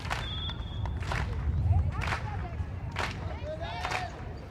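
Spectators and a men's team cheer and clap at a women's ultimate frisbee game between Germany and New Zealand at the 2012 World Ultimate Championships, with steady crowd noise, repeated bursts of claps and shouts, and a commentator talking over it.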